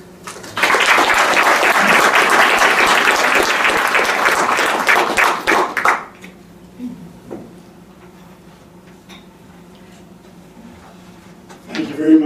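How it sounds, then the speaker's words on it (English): An audience at an embassy lecture series applauds the moderator, a loud burst of clapping from many hands that lasts several seconds, then stops abruptly and leaves a quiet room with faint shuffles. "please join me in a warm round of applause for our moderator today"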